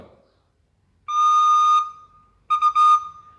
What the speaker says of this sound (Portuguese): por isso que ele se chama flauta doce, uma flauta que tem um som suave